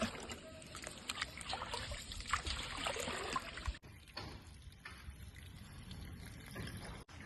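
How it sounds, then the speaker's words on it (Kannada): Water boils in a covered pot for pulao, a soft, continuous bubbling and trickling hiss heard up close and fairly faint, with a brief knock partway through. "ಇದು ನೀರು ಕುದ್ದದ್ ನೋಡ್ರಿ"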